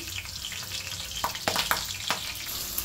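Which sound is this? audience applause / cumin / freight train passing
cumin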